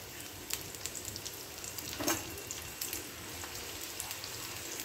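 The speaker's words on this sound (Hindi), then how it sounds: "समोसे फ्राई कर लेंगे अच्छी तरह से गोल्डन ब्राउन इसको" Chicken samosas deep-frying in hot oil, a soft steady sizzle with scattered light pops and crackles, quiet and continuous, with no talk.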